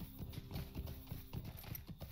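Horse hooves clip-clop at a steady walking rhythm in the online game Lord of the Rings Online, a clear close series of hoofbeats with faint background sound.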